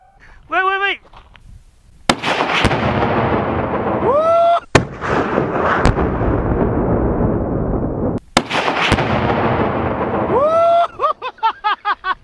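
Grenade exploding beneath frozen lake ice, with heavy booming bursts and long rumbling crashes that come in waves. Excited shouts and talk are heard before, between and after the blasts.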